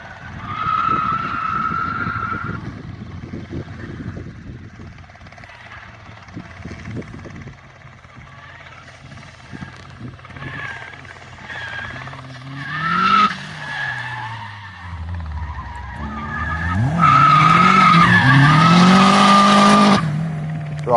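A modified black five-door Vauxhall Corsa C SRI with a Z20LEH engine driving hard, tyres squealing and skidding in long screeches while the engine revs rise and fall, loud and close, building to a sustained squeal near the end.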